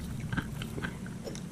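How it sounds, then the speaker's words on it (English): Close, wet chewing and crunching of food in the mouth, including an undercooked banana and burnt crispy bits, with soft irregular bites and mouth noises over a steady low background hum. "If I had to chew all that."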